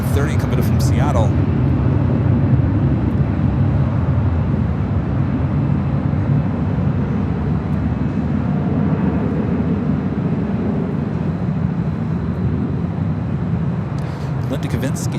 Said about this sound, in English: Our next rival here on the north side is Delta Airlines flight 2830 coming in from Seattle.